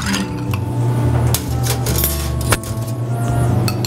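The Coronation cocktail stirred on large ice cubes in a mixing glass, giving a steady close jangle and clink of ice against glass and spoon throughout.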